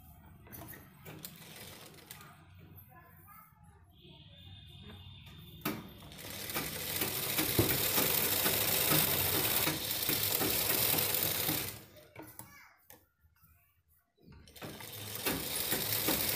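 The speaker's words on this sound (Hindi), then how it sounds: "ये कपड़े को हम ऐसे रखेंगे और सिलाई लगाएंगे।" Domestic sewing machine stitching cloth for a small multi-purpose pen pouch, running in a steady mechanical whir with bursts of stitching, pausing briefly near the end before starting again.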